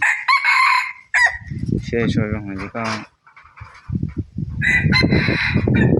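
Hmong village roosters crow loudly and close by, with one long, strained cock-a-doodle-doo in the middle, while people chat nearby.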